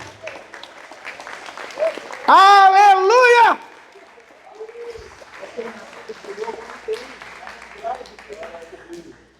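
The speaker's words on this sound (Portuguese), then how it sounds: "Pode aplaudir." A church audience applauds during a sermon. A loud shouted exclamation rings out first, then scattered clapping and crowd noise continue under mingled voices.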